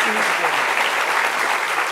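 Studio audience of a live midday television show applauds steadily and loudly, a dense continuous wash of clapping lasting throughout, with a voice briefly present at the start.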